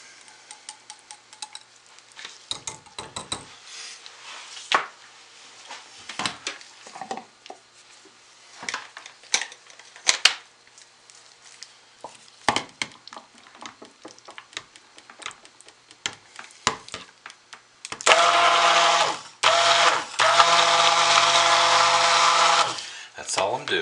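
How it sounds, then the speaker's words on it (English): An immersion stick blender mixes lemon poppy seed soap batter. Scattered clicks and handling knocks come first, then the blender whirs loud and close in one sustained burst of about five seconds before it cuts off. "I'm going to hit this quickly with the stick blender"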